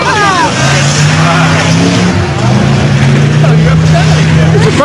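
A hot rod Oldsmobile race car engine drones steadily with a low, sustained hum at a junk car race, loud and continuous, with a brief dip midway and crowd or voice noise mixed in.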